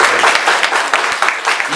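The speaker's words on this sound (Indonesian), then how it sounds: "Tepuk tangan yang meriah." A church congregation at a Sunday worship service bursts into loud, lively applause, a crisp rapid patter of many hands clapping together, close and energetic, with no speech over it.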